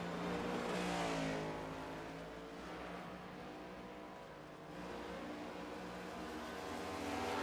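A race car at the Indy GP road course roars past up close, engine note rising then dipping and swelling again as it accelerates away, loud and steady with no talk.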